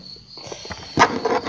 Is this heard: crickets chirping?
yes